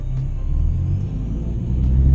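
Low, steady engine rumble from a 2012 Ford Mustang cruising on the road, heard from inside the car as a continuous deep drone with a faint rise toward the end.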